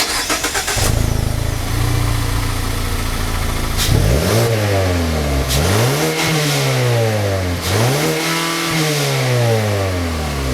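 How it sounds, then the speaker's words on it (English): A Mazda 3 engine starts with a bark, then the exhaust revs up three times in quick rising sweeps, each falling back to a loud, throaty idle. "And now we'll have a listen to the exhaust."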